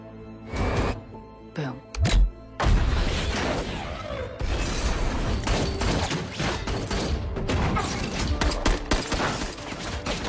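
Gunfire is exchanged between two characters in a film scene, bursts of shots and thumping impacts echoing over a busy, dense action soundtrack.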